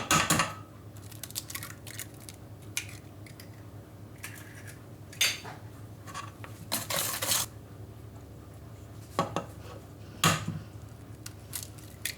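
Eggs go one at a time into marble cake batter in a bowl, with a few sharp clinks and cracking knocks spread across quiet kitchen sounds and soft scraping between them.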